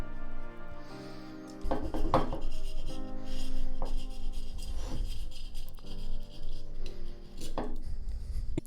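A blade slowly trimming excess material off a foil board, avoiding the carbon beneath, producing close, repeated rasping and scraping strokes with a few sharper scratchy bursts and light clunks from handling.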